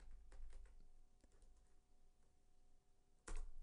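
Light typing on a computer keyboard, a handful of quiet, irregular key clicks followed by one sharper, louder keystroke near the end, under a faint steady hum.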